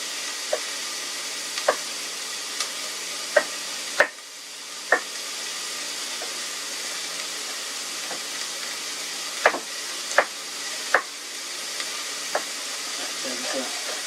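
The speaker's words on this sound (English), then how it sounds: "We got the hamburger in cooking. Chopping the onions, and we chop the garlic, and you get that all in there and simmering." Hamburger, onions and garlic sizzling in a pot for cowboy chili, a constant soft hissing fry with sharp scattered clinks and scrapes of stirring, close and fairly quiet.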